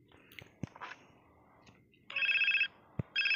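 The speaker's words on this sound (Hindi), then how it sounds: "फिर ये फोन आ रहा है, तो फिर हम जल्दी से उठा लेते हैं।" A mobile phone rings in the game GTA San Andreas. Two loud electronic ringtone bursts sound over low background game noise, with a few soft clicks between them.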